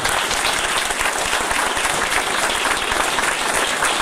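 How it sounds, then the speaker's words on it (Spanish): A crowd applauds steadily for several seconds, dense clapping throughout with no voices rising above it. "Un aplauso, por favor."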